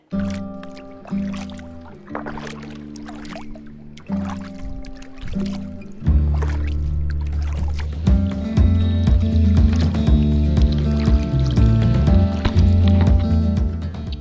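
Kayak paddling on Ross Lake in the North Cascades, rhythmic paddle strokes splashing and dripping at roughly one-second intervals, close and clear, turning into a denser, louder wash of water noise in the second half.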